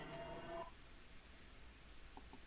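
A telephone rings in a Higurashi visual novel, a bright electronic trill that sounds once at the start and then cuts off, leaving quiet background with two faint blips.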